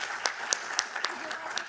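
People at a city council meeting applaud for a high school junior, with broad steady clapping and a few sharper, regular claps standing out. Faint chatter sits underneath.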